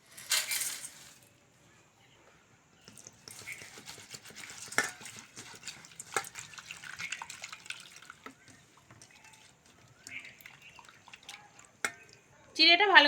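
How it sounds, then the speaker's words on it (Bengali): Flattened rice (chira) being washed in water makes soft splashing, dripping and stirring sounds, faint and intermittent, with a louder pour of running water at the start and again at the end. "প্রথমে আমি চিড়েটা ভালো করে ধুয়ে নেব।"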